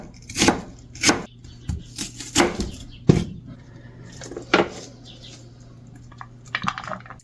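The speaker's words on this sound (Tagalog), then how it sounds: "Ganitong klase ng hiwa ang gagawin ko sa sibuyas." Knife slicing an onion on a cutting board while preparing sinigang, producing irregular close thuds and crunchy cuts at varying spacing, with quieter handling between strokes and no talking.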